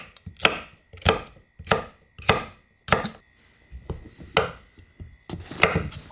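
A knife slices bell pepper into even strips on a cutting board, about eight crisp, evenly spaced chops with sharp thuds, close and alone.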